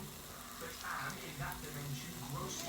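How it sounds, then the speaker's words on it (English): Low, steady sizzling of mince frying in a pan, a soft crackling hiss running throughout at moderate volume. "I'm just frying off the mince"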